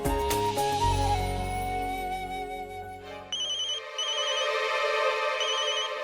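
A mobile phone ringtone plays a bright, melodic electronic tune, starting with a fuller musical intro and then settling into a repeating high chiming pattern, clear and close with no talking.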